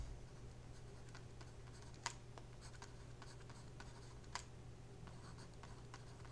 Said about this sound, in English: I'll try to write slowly